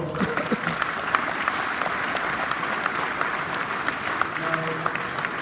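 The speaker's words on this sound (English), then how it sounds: "Let's give probably a big round of applause." Audience applause rolls on steadily, a dense, moderately loud wash of many hands clapping, with faint voices mixed in underneath.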